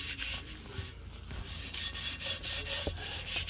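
A Scotch-Brite pad scrubs a metal part from a 1974 Alfa Romeo in steady, close rasping strokes, a continuous gritty rubbing with small bumps in intensity and no talk.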